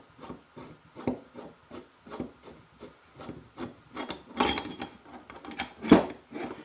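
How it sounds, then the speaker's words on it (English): The barrel of a Remington 455A Power Mate is unthreaded by hand, producing a close, irregular series of short scraping, rasping and clicking sounds. "Then we can unthread the barrel."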